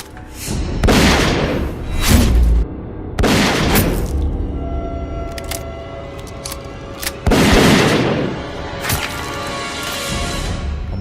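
Several loud, close gunshot blasts ring out in a Thai drama scene, arriving in irregular bursts with ringing decay between them and a few sharper crack-like hits.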